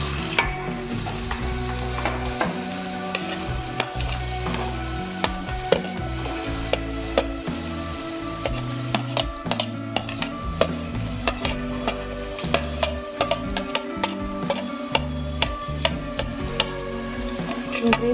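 Onions and green chillies fry in hot oil for a tamarind fish curry, a constant sizzle under a long run of rhythmic spatula scrapes and clinks against the pan, with no talking.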